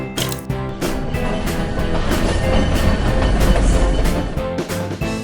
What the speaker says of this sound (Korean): train, 기차